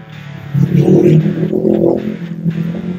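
An Uwinfly T5 electric motorcycle pulls away under throttle, with a close motor whine and hum that rise briefly, then ease off.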